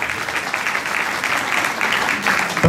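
Steady audience applause and ovation at a live concert of bawdy drinking songs, dense continuous clapping from a full hall throughout, fairly loud, with no speech over it.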